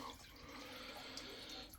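Water rushes from a toilet cistern into the bowl after flushing, a steady, moderately faint hiss and gurgle of flowing water with no talking.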